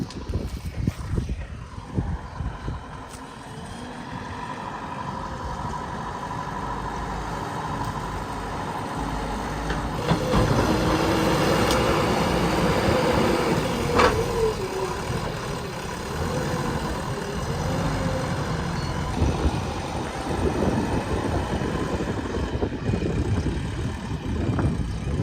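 A JCB backhoe loader working on a farm plot, its diesel engine droning steadily at close range and rising in load partway through, with mechanical clanks over the continuous rumble.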